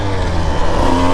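Husqvarna TE 150 TBI two-stroke dirt bike engine pulls in second gear after a downshift, a loud, close, buzzing drone with steady harmonics climbing slightly in pitch over a brief moment.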